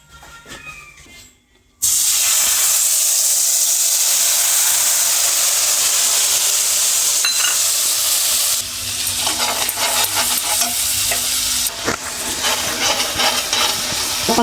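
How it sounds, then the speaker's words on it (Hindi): Paneer fries in hot oil, a loud close sizzle that bursts in after a brief quiet start and hisses continuously, with stirring scrapes and shifts in intensity partway through, no voices. "पनीर फ्राई हो रहा है।"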